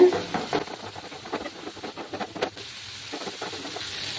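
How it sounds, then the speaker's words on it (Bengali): Turmeric spice mixture being sautéed in a pan for a Bengali vegetarian jackfruit curry, with close, busy scraping and stirring over a light sizzle in short uneven bursts, with no talk. "মশলাটাকে ভালোভাবে কষাতে হবে।"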